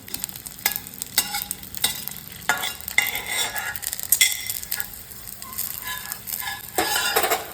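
Edible gum (dink) frying and puffing in ghee, a steady crackling sizzle broken by repeated stirring scrapes and light clinks from a pan, close and moderately loud with no talk.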